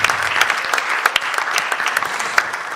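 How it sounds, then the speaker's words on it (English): Audience applause during a prize announcement at the NSMQ 2025 national championship launch: a steady wash of clapping with a few sharper individual claps standing out, sustained throughout. "let it clap."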